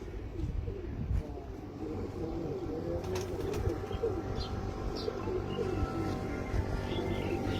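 Pigeons coo in a steady low murmur at a loft in Faisalabad, with faint chirps and brief flutters of wings scattered through the continuous background.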